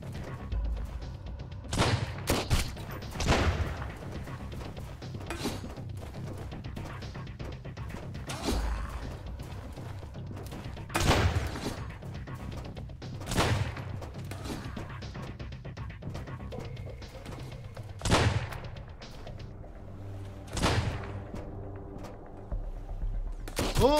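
Enemies in Sunkenland shoot at a player's base walls: scattered gunshots crack out in bursts and single reports over about 24 seconds. Some shots land close and loud, others sound more distant, with a low rumbling bed underneath.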